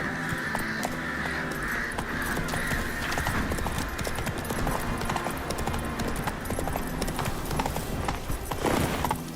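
Hooves of Roach, Geralt's horse in The Witcher 3, clip-clop in a steady galloping rhythm throughout, set against a dense game soundscape with occasional bird caws.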